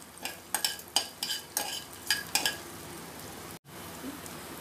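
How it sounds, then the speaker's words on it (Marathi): Ginger slices and garlic cloves sautéed lightly in a pan, a gentle low sizzle punctuated by a run of sharp spatula scrapes and clinks against the metal, then a brief cut before the quiet sizzle resumes. "त्यावर आल्याचे काप आणि लसूण पाकळी। हे आपल्याला फक्त हलकसं परतून घ्यायचंय।"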